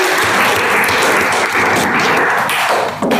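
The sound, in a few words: applause for a student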